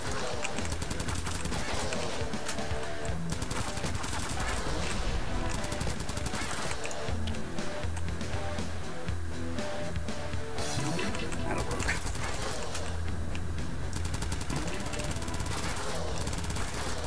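Submachine gun fire in the top-down shooter Crimsonland: a relentless, rapid stream of gunshots runs loud and unbroken for the whole stretch, layered with dense impacts and game effects.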